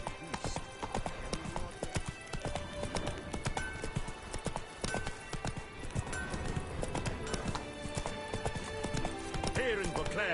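In Witcher 3, in Beauclair, horse hooves clatter in a continuous galloping clip-clop, loud and near, mixed with game music and ambient effects, a faint whinny here and there.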